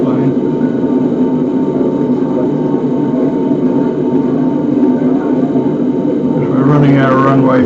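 A Boeing 747-8 jet airliner takes off, heard from the cockpit as a steady loud engine roar and rumble throughout, with voices briefly speaking over it near the end.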